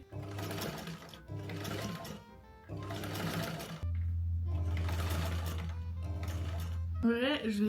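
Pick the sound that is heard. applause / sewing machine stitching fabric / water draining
sewing machine stitching fabric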